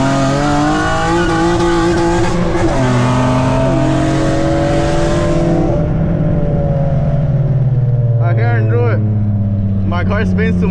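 A Nissan Maxima engine roars loudly as it launches, revving high with tires spinning and squealing, pitch shifting as it accelerates; talking is heard over it.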